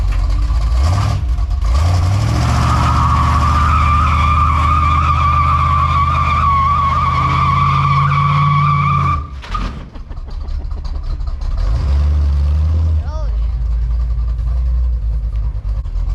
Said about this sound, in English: It's hard to do a burnout with them highway gears and that tight converter